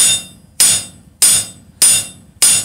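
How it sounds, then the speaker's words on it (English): Soft face hammer striking a hot steel bottle opener blank during forging, five evenly spaced, sharp, loud blows about half a second apart, each ringing briefly before fading. "use a soft face hammer, not a regular hammer"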